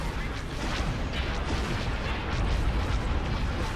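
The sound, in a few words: torpedo fire in Star Wars video game space battle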